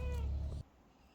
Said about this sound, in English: What a cat. It's a cat.